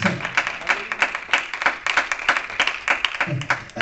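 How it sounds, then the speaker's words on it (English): A church congregation claps hands in praise, a run of quick, uneven claps from many people with voices calling out beneath them. "give God another hand clap of praise"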